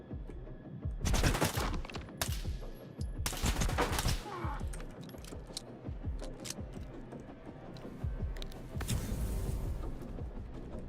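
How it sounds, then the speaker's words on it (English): Bursts of gunfire aimed at the player in a Stalker video game, repeated volleys of shots at close to mid range with irregular rhythm, loud and sustained across the stretch with no talk over it. "Someone's shooting at me."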